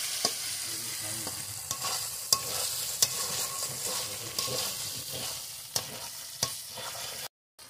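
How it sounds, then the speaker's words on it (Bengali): Cumin paste frying in a pan over a wood fire for mutton curry, a steady close sizzle broken by repeated scraping stirs and sharp utensil clicks, ending abruptly in silence. "এখন জিরে বাটাটাও কিছুক্ষণ ভালো করে কষিয়ে নেবে।"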